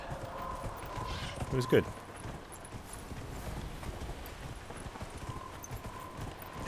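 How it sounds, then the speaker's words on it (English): A horse in Dragon Age: Inquisition sprints along with quick, soft hoofbeats under ambient game sound, while a player talks briefly and a short clatter rises near the start. "Sprint horsey."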